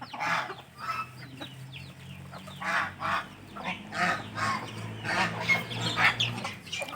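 A flock of chickens crowds over scattered grain, clucking and squawking in repeated bursts, a busy, close chorus with no talk.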